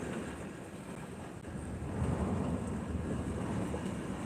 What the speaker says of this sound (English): Good grief, that wind is whipping.